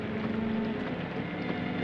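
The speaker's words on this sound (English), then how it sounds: "It's raining." Steady rain falling on an open car in a 1945 film noir scene, a dense, even hiss with a low hum beneath it, constant and close throughout with no voices.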